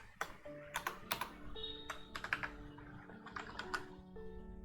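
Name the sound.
typing on a computer keyboard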